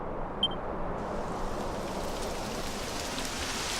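Rain beginning to fall in Dragon Quest XI, a steady hiss of rainfall that spreads upward and fills in after a brief chime near the start, continuing evenly throughout.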